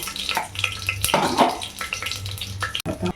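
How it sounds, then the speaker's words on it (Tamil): Vadagam and fenugreek seeds crackle and sizzle as they are tempered in hot oil for an okra, coconut milk and tamarind kuzhambu, with an uneven, bubbling spatter and a few soft stirring knocks nearby. "தாளிப்பு வடகம் போட்டுக்கலாம் சேர்க்க வேண்டும் வெந்தயம்"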